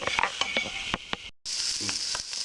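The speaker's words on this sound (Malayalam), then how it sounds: "അതും കൂടെ ഇതിലോട്ട് തട്ടി വെക്കാം. എല്ലാം കൂടെ ഒന്ന് മിക്സ് ചെയ്യണം." Ground chicken being stirred into chammanthi in a hot pan, with soft sizzling and repeated scraping spoon strokes, close and steady apart from a brief gap.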